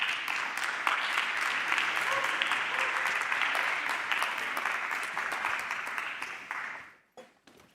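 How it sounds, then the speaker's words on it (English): Audience at a venture day event in Madrid applauding as speakers take the stage, heard as dense, steady clapping for about seven seconds before fading out, with a few scattered claps after. "Let's give them a huge round of applause as they take the stage."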